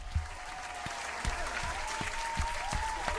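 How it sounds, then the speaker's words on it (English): Applause for the police: sparse, scattered claps at irregular intervals, moderately close, with a thin wavering tone running faintly behind them. "let's clap it up for the cops"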